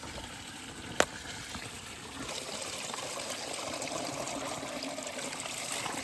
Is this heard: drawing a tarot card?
no